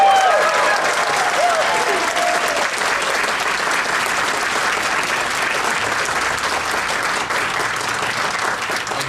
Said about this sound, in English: And an applaud and a cheer.